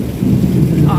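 A heavy downpour in Bodeli, with strong wind and thunder, comes through as a loud, deep, rolling rumble lasting about a second.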